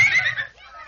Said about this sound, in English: Take a good look at that horse